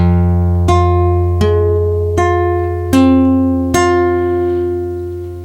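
A finger-picked guitar phrase from a song, five clear ringing plucked chords at an even pace over a sustained low note, loud and close, each one decaying into the next, with no talking.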